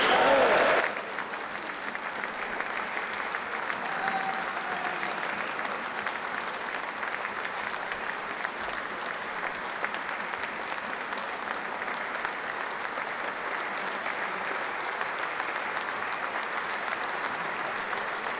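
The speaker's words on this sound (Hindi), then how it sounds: "जोरदार तालियों के साथ हम लोग समर्थन करें" Sustained loud applause from a large crowd at an NDA parliamentary meeting, a dense steady roar of clapping lasting throughout after an initial louder burst, with no talk over it.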